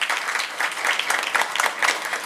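An audience at an award ceremony for a Marathi entrepreneur gives a short burst of lively clapping, many hands together and fairly loud, with no voices over it.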